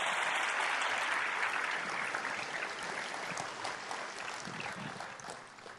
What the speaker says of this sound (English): Yeah, you can clap. Go ahead and clap.